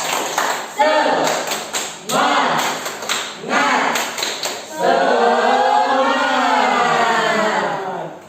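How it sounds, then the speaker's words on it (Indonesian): A classroom of fourth-grade students does a spirit clap, with rhythmic group clapping in bursts mixed with loud chanting voices, building into a long sustained shout at the end. "Ayo, tepuk semangat."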